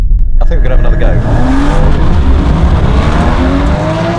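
A Porsche Cayman GT4 launching hard off the line in a drag race, its engine roaring loud and close as it revs up through rising pitch, with a brief tyre chirp at the start.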